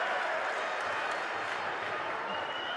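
Home crowd at a Huddersfield Giants rugby league match against Featherstone roars in a continuous wash of cheering and scattered applause, with a commentator's voice running over it.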